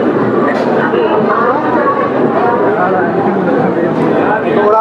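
The Sachkhand Express, Hazur Sahib Nanded to Amritsar, pulls away from a station platform with a steady, close rumble of rolling coaches under a background murmur of crowd voices.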